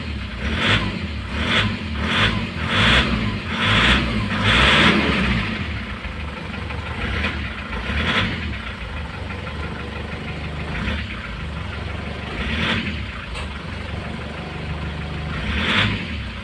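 Nissan Patrol engine that had lost compression running after oil was poured into its intake, a rough, uneven idle with repeated knocking bursts and surging revs, close and loud with no talking.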